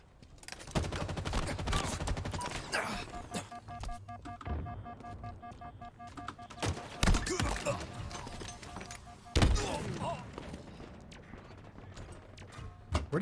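Rapid bursts of automatic gunfire and sharp shots in Halo Infinite multiplayer, irregular volleys near and far, with a voice talking at times.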